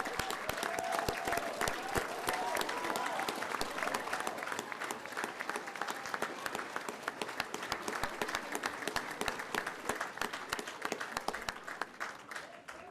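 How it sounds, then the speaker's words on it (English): Sustained applause from a large audience at a 2022 West Georgia Technical College spring graduation ceremony, dense steady clapping filling the hall for the whole stretch, with scattered whistles and cheers. "One last round of applause."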